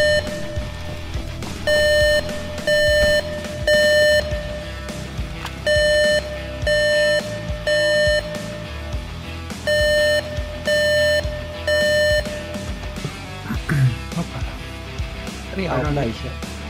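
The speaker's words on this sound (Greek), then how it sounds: "Το νου σας τώρα θα χτυπήσει συναγερμός" Electronic alarm in the survival video game DayZ sounds in repeated loud on-off beeping pulses of about a second each, continuing for many cycles while players talk over it.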